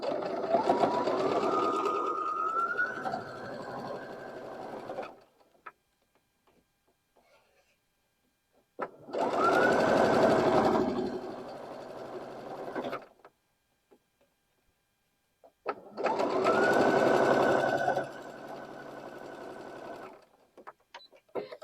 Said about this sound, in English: let's go to the sewing machine and sew those together